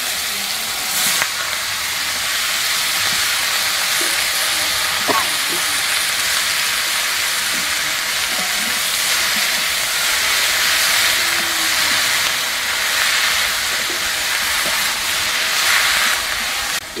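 Water lily stems, boiled beforehand, drop into hot oil tempered with nigella seeds and chopped green chilli, setting off a steady close sizzle and hiss of frying that runs throughout with occasional stirring clinks, no talk.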